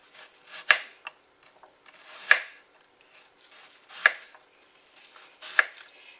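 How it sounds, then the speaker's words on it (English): Four slow, evenly spaced knife chops on a board as a red onion is cut, crisp and close, with quiet gaps between strikes. "this is going to be perfect for chopping"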